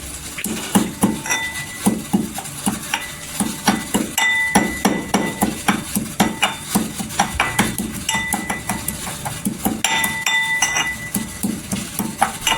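Spices for masala chai, such as black pepper, pounded in a mortar and pestle, giving a steady run of sharp, close metallic thuds and clinks, two to three per second, alone with no talk.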